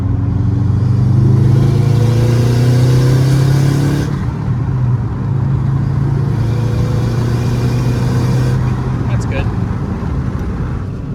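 Tuned Subaru WRX engine pulling under part throttle into boost, a loud steady drone with rising tone that eases briefly around four seconds then holds, heard from inside the car with people talking over it.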